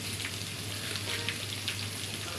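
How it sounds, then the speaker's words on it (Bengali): Hot oil sizzling steadily with fennel seeds, raw onion and cumin paste in a pan, a dense continuous crackle with faint pops and a low hum underneath. "তেল গরম হলে একটু মৌরি ফোড়ন এবং কাঁচা পেঁয়াজ দিয়ে হালকা কিছুটা ভেজে নেব।"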